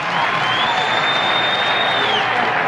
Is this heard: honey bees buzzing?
no